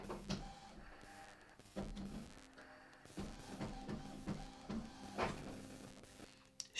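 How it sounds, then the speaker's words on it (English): A printer runs through the whole stretch, with repeated mechanical whirring and clunking passes of the print head and paper feed at moderate level, no voices over it. "Shut it, printer."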